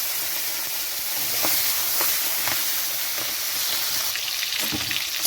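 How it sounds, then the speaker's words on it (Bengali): Shrimp frying in hot mustard oil in a wok, a loud, steady wash of sizzling hiss with occasional sharper spits and stirring scrapes, close up and continuous, no talking. "এখানে দিয়ে দিচ্ছি চিংড়ি মাছ।"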